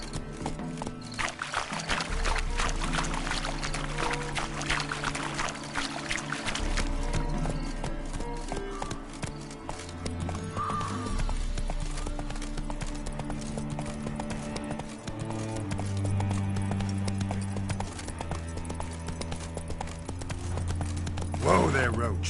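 Rhythmic clip-clop of horse hooves at a steady walk in a video game, with music playing and a horse whinnying midway.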